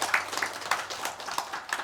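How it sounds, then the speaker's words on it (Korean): Light, scattered applause from a church congregation during a Sunday worship service, a few separate claps rising from a quiet room, fairly soft and distant. "우리 여러분 자신을 한번 박수하시기 바랍니다"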